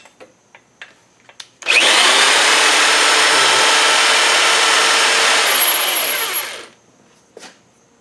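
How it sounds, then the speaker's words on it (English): A small countersink bit turned in a tap wrench on a South Bend 11 lathe's cross slide part gives one steady, loud scraping grind of about five seconds, starting abruptly and fading out, with faint clicks before and after. "Putting a small countersink bit in there, because that's what my tap wrench takes."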